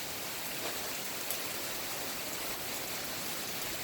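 Heavy rain pouring steadily outside a house, a dense, continuous hiss with no breaks, fairly loud and close, with no voices over it.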